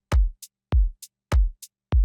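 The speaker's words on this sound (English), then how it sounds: "And if we play it with the rest of our claps and hats," A desert house drum loop: deep punchy kicks on a steady beat, each followed by crisp short hi-hat ticks, with claps layered in, looping cleanly and dry with no other sounds.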